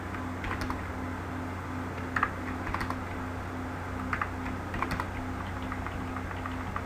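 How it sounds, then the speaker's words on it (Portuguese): Values being typed on a computer keyboard into an Excel spreadsheet, scattered quick key clicks in short bursts over a low steady hum, close and moderately quiet. "digitei aqui os valores"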